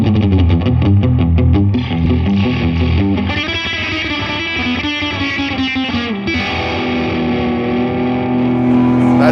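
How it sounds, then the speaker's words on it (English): Electric guitar played through a Supro Saturn Reverb or Royal Reverb amplifier with heavy reverb, sustained chords and melodic lines ringing loud and washy throughout, drenched in echo tails. "give me a super reverb, lots of reverb"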